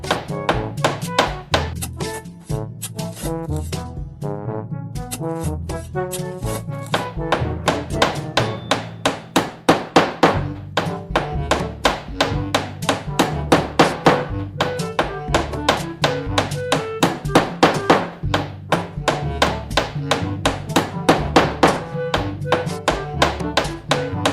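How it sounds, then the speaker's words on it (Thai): Blocks being broken and placed in a survival video game: a continuous, fast stream of sharp tapping and knocking hits, like hammering, steady and fairly loud throughout. "เราก็จะมีทุบทั้งสร้างทุบทั้งสร้างนะครับ"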